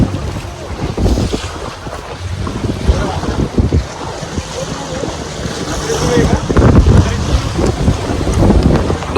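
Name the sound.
boat moving between two rocks at sea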